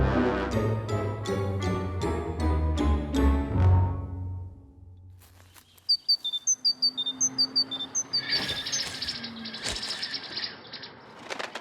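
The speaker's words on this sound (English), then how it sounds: "city dwellers who couldn't believe their ears heard the birds sing" Birds sing in a quiet city park: a rapid run of bright, high chirps repeats several times after a short passage of ringing musical tones, over a soft, airy background.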